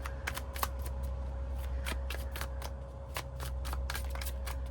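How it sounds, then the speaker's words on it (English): Tarot cards shuffled at a desk, a long run of dry, riffling flicks and slaps repeating in quick irregular bursts over a steady low background hum, close and moderately quiet with no talking. "I think this is the longest shuffling I've ever done."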